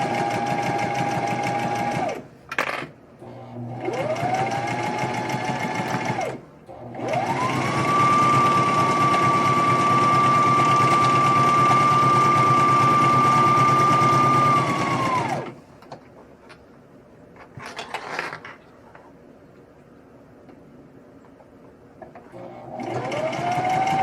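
A sewing machine runs in several long, steady bursts while stitching the inside seam of a bag, its whirring motor loud and close, with brief pauses between runs and no talking.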